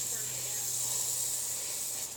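A garden hose sprays water with a steady, close hiss during a car wash, unbroken for a couple of seconds before tailing off.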